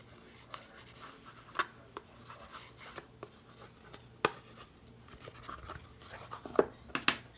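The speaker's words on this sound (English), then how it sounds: "And then burnish." A folded paper card for an advent calendar box is burnished by hand, giving soft close rubbing and scraping strokes with a few sharper taps and scuffs, quiet and uneven.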